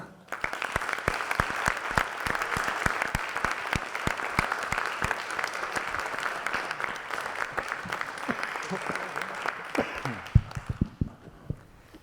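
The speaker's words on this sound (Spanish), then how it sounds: "me gustaría que recibiéramos con un fuerte y entregado de carne y hueso aplauso" Lecture audience at a university faculty of philosophy and letters applauding a guest speaker, a sustained burst of many hands clapping that fades out near the end.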